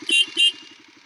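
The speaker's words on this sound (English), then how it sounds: "we'll give Rebecca a honk" Car horn giving two quick, close, bright honks in a row, followed by a soft running engine idling underneath.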